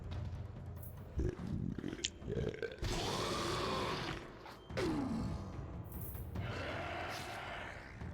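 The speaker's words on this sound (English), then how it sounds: "Right, you're gonna belch." Creature belching in the Disciples Liberation video game, long deep gurgling burps with growling undertones, loud and repeated over about eight seconds.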